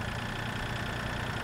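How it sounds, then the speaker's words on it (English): Tractor engine in the Farming Simulator 2013 video game, a steady mid-to-low idling drone running evenly and alone, with a faint knocking texture. "This tractor reverses really slowly"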